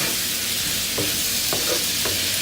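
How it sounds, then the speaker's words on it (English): Shrimp cook in melted butter in a pan, giving off a dense, continuous sizzle close by, with a few soft clicks of stirring. No voices are heard. "make sure that these shrimp are coated with this butter. And you just want to leave these in so they get pink"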